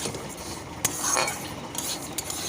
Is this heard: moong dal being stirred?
yes